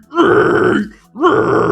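Two low false cord screams, demonstrated vocally as gravelly, growling roars. A long one is followed by a short gap and then a second one, both loud and close with no other sound.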